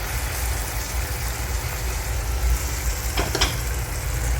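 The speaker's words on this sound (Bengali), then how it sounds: "টমেটোর পেস্টটাকে ঢেলে দিয়ে এবার ভালো করে এটাকে খুব ভালো করে কষিয়ে নিতে হবে" Tomato paste poured into a hot kadai pan with masala and Kashmiri chilli powder for kadai paneer, giving a steady close sizzle and hiss with a couple of brief scraping sounds.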